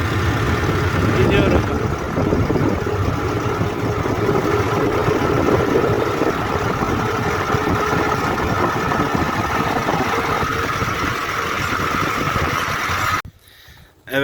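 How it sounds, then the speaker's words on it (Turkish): A tractor engine runs steadily and loudly while driving along a village road toward a wheat field at harvest time, with a constant low rumble and road noise throughout, cutting off briefly at the end. "Traktörümüz de havalı havalı"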